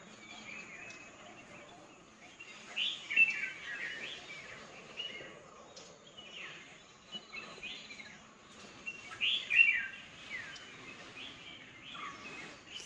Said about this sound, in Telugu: బర్డ్స్ అన్నీ అరుస్తూ ఉన్నాయి.